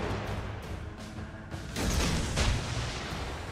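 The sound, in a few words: naval gunfire from cruiser Königsberg in a warship video game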